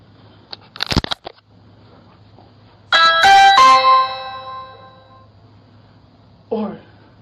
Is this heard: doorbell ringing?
yes